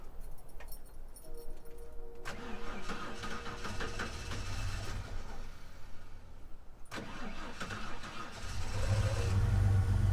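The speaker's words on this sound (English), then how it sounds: "This thing fired back up again." Keys jingle, then a six-cylinder engine previously filled with sand and water cranks and catches, settling into a rough idle before revving up louder near the end.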